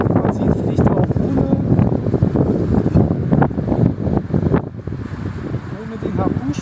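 Strong gusty wind buffets the microphone outdoors while a dragon-shaped kite flies without its tail, with a steady roar and someone talking over it.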